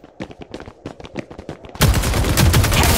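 Video game gunfire scoring a headshot: a quick series of sharp rhythmic shots, then a sudden loud sustained burst of dense firing or explosion noise, close and loud with no talk.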